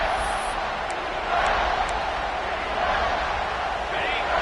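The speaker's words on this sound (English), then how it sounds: "Third down, red zone play, crowd alive." A stadium crowd at a football game cheers as a loud, continuous roar during a third-down red zone play, swelling slightly midway, while a commentator talks over it.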